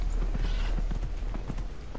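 Horse hooves clip-clop in Dragon Age: Inquisition gameplay, a steady run of close, regular hoofbeats over a constant background bed.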